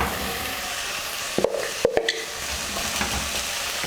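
Vegetables dropped into a pot for beetroot soup, giving a few short clunks and splashes over a steady low sizzling hiss in a kitchen, with no voice heard.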